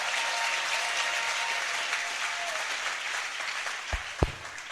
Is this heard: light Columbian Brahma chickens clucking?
no